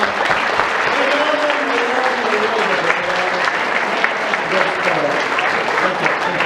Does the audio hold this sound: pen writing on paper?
no